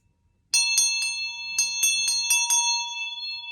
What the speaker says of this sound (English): Somebody needs a little bell as well, so watch your ears.